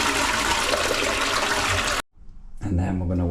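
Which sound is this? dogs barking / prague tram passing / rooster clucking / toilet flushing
toilet flushing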